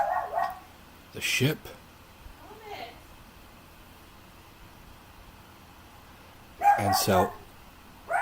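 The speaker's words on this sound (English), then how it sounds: "I apologize if you can hear that dog." A dog barks in short bursts in the background: a couple near the start and another pair later. A person talks briefly between the barks.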